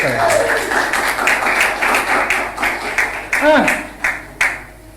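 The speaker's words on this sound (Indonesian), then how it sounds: "Tepuk tangan sekali lagi untuk Arung" Audience clapping after a children's play-group performance, steady scattered applause with sharp claps throughout, mixed with voices talking over it.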